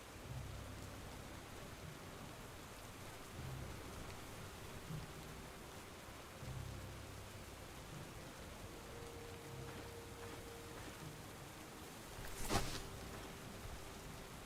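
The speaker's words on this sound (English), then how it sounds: "I can't hear anything through the rain," Steady rain hiss fills the scene in the video game Stoneshard, with low thunder rumbles rolling underneath and a sharp, brief crack near the end, all quiet and distant in feel.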